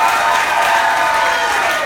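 An improv comedy audience applauds and cheers to score a scene, a dense steady wash of clapping and crowd noise holding throughout.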